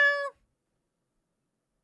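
A single short, high, tonal meow sounds close and clear, then stops abruptly and leaves silence.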